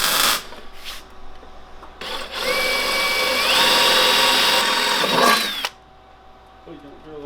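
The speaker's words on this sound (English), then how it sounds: "Please don't drill the harness." A power drill whines steadily for several seconds, its pitch rising as it bites into material on a Coleman KT196 go-kart near its wiring harness, with brief bursts before and a pause after.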